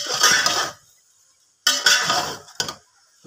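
A spoon scraping and stirring green masala rice in a pot, in two longer bursts of scraping and a short final scrape separated by silence, close and clear with no voices.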